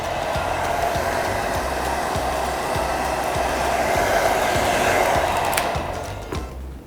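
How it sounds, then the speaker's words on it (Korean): A hair dryer on its low setting blows a steady, close whooshing stream of air while drying sprayed men's hair, fading out near the end. "드라이기 바람으로 약한 바람을 켜고 한번 말려주시면 이 고정력이 조금 더 오래 가요"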